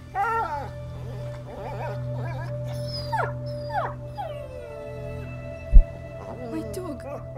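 A dog whimpers and howls in the A Plague Tale video game, a string of high, wavering cries under a low steady hum, ending with a sharp thud.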